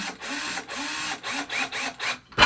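M6 bolts being screwed into FlexQube FlexBeams, heavy-duty steel material-handling beams, in a series of about five close, steady mechanical whirring bursts separated by short pauses, ending with a sharper bright clink.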